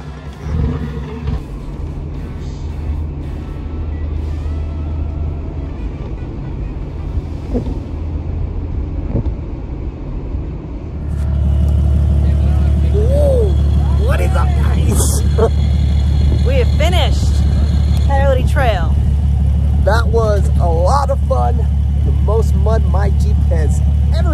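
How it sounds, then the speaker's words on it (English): A Jeep JL engine idles and revs roughly at a mudding outing, its low rumble growing heavier partway through, with engine surges and people talking over it. "A knock in his engine"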